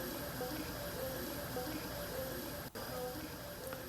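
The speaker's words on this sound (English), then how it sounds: "Look at that boil." Potatoes boiling in a pot of water, a steady close hissing, bubbling rush with no pauses.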